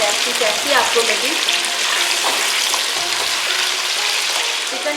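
Chicken fries in hot oil, a loud, dense, continuous crackle and hiss filling the whole stretch with little change.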